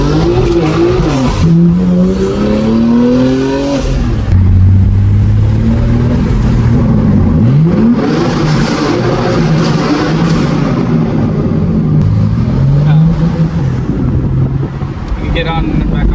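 A BMW M4 Competition (G80) revs hard and slides on a track, its engine pitch rising and falling through gear changes, with wind buffeting and tire noise, heard from inside the car alongside occupants' voices.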